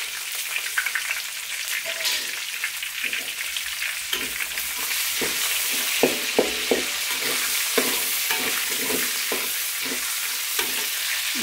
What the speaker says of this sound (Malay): Kemudian kita panaskan minyak, masukkan 1 labu bawang merah.